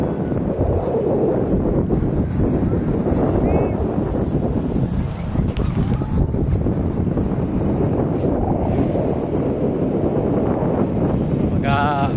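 Strong wind at the beach buffets the microphone in a steady, loud roar throughout, with faint background sounds underneath.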